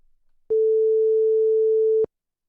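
Telephone busy tone after a dropped call: one steady, pure electronic beep held for about a second and a half, clear and alone against silence.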